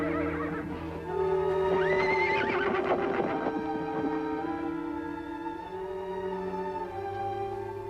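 Horses neigh loudly at close range in a long whinny that rises and falls, with hooves clip-clopping underneath and other horses sounding faintly along with them.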